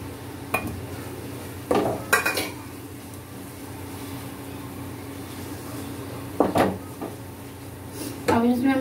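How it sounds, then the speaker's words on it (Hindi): Cooked vegetables for pav bhaji being mashed in a pressure cooker pot, with a low background hum broken by several sharp scraping and clanking bursts of a utensil against metal, close and moderately loud, with no talking. "अच्छी तरीके से इन्हें घोट लेंगे"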